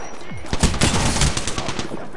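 Rapid gunfire rings out in a dense, fast burst of sharp shots lasting about two seconds, loud and close.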